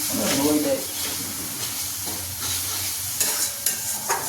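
A spice mix frying in oil in a pan for an eggplant dish, stirred with steady scraping and a continuous close sizzle and hiss, with brief louder scrapes near the end.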